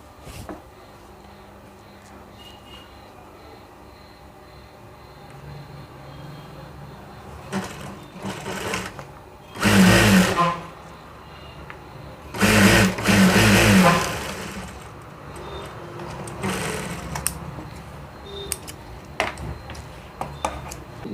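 A sewing machine stitching a gathering band runs in two loud, quick bursts of rapid mechanical whirring, separated by a short pause, with faint handling clicks and rustles around them.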